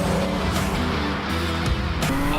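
A Toyota Avalon TRD Pro concept car at the 2019 SEMA show, its engine running loud and steady up close, with a rough, throaty drone and a couple of brief surges in revs.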